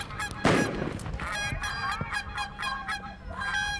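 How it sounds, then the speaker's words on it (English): Repeated nasal honking duck calls at a retriever trial, several overlapping in quick succession, with a sharp thump early on and no talking. "Duck calls and birds and gunshots everywhere."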